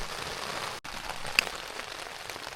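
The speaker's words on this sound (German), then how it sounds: "Es regnet immer noch" Steady rain patters on a tent pitched on a beach in Denmark, a soft continuous hiss with one brief dropout and a single sharper drop tap, heard from inside with no talking.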